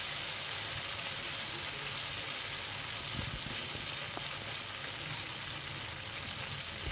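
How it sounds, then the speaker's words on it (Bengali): Garlic, ginger and green chilli paste frying in oil in a wok makes a continuous dense sizzle and hiss, with occasional soft stirring knocks, close and steady. "এটা ভালো করে নাড়িয়ে নিয়ে যখন একদম তেলটা একটুখানি কড়াই থেকে ছেড়ে আসবে"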